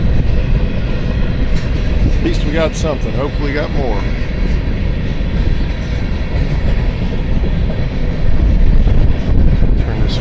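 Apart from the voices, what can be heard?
freight train passing by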